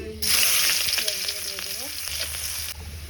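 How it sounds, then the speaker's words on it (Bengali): Desi shing catfish lightly frying in a pan with five-spice seed mix, giving a loud, steady crackling sizzle that runs throughout, with a few scraping stirs in the middle before it quiets slightly at the end. "মাছগুলো হচ্ছে একটু হালকা করে ভেজে নিয়ে"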